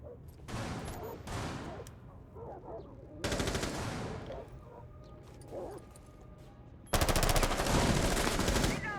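Automatic gunfire in a Rainbow Six Siege match, aimed at an opponent at a window, comes in several sharp bursts of rapid shots with quieter gaps between them. Faint game noises fill the pauses.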